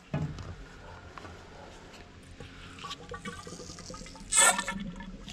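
Fork oil is poured into the front fork leg of a 2019 Geon X-Road Light 200 motorcycle during a seal and oil change. Faint, steady liquid trickling and gurgling runs throughout, with a brief louder gush near the end.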